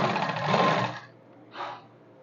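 Sewing machine running a double line of stitching on a suit, a steady close whirring burst for about a second, then a pause and a brief second run.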